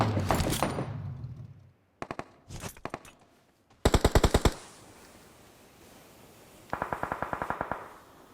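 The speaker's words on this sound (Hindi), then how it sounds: "इस तरफ से गोली आई थी।" Bursts of automatic gunfire in PUBG on the Miramar desert map: a short volley, scattered single shots, a dense rapid burst, then a quieter, more distant burst of rounds after a pause.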